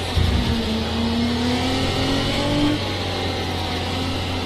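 A racing car's engine drones steadily in a racing video game at Catalunya, with a continuous mid-pitched hum and gently shifting pitch under sustained throttle, loud and constant throughout.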